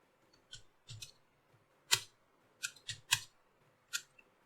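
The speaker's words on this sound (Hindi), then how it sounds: "मैं यहाँ पे सिंपली क्या टाइप करूंगा, लिखूंगा list of TCP and UDP ports" Several sharp, separate clicks spread over a few seconds, close and crisp against near silence, like keys being pressed one by one on a computer keyboard while entering a web search.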